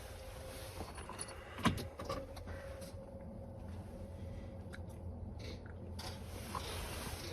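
Keys jangle in the ignition of a 2020 International LT truck, with a sharp clack near the start, over a steady low rumble from the cab.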